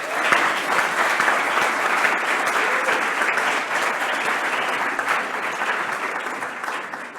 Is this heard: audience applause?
yes